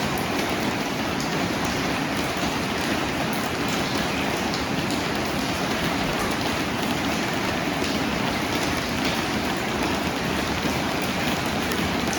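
Steady rain falls alone for the whole stretch, a dense and even hiss of drops hitting surfaces at a building site where a house is going up, with no voices and no breaks.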